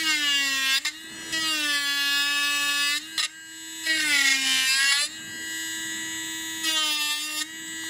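A Kredioo handheld electric nail drill whines as it files a hard gel overlay and gel polish on real nails, its pitch dipping under load and rising in short bursts between pauses, close and alone.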